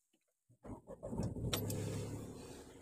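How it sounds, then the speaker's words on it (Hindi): A Tata Punch engine cranks and catches after a brief click, then settles into a steady idle close by, with no talking. "तो पहले गाड़ी को स्टार्ट कर लेता हूँ"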